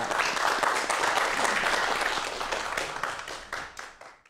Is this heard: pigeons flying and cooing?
no